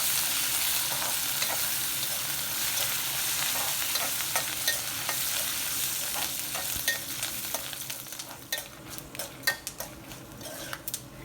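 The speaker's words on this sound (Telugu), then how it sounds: "ఒక రెమ్మ కరివేపాకు కూడా వేసుకుందాము వేసుకుని ఇలా ఫ్రై చేసుకుందాము" Tempering with curry leaves frying in oil in a pan gives a continuous moderate sizzle, with scattered clicks and taps of a utensil against the pan growing more frequent toward the end; nobody speaks.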